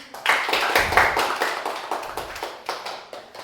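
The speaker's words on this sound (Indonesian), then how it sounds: "Berikan tepuk tangan untuk semuanya." A small group in a classroom claps hands together for a few seconds, the sharp claps fairly quick and uneven, strongest at the start and slowly thinning out.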